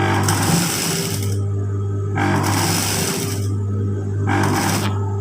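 A sewing machine stitches close along the folded hem of a shirt, running in three rapid, loud bursts separated by short pauses, over a steady low motor hum.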